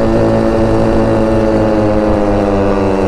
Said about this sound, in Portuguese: vou acelerar tudo